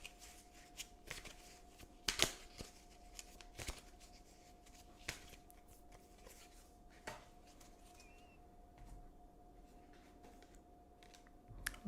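Tarot cards are shuffled for an affirmation card draw, giving soft riffling and sharp card snaps in short bursts against a quiet background with a faint steady tone.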